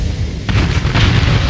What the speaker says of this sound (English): I kinda wish tankers had bigger explosions